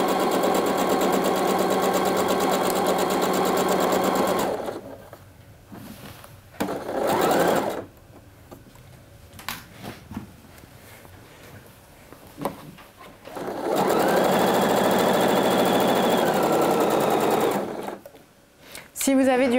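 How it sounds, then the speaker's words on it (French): Sewing machine stitching a coat seam with a narrow seam allowance, running in two long close whirring bursts with short stops, while someone talks in the quieter gap between them. "Vous n'êtes pas obligé de coudre extrêmement à ras, du rentré de couture ici."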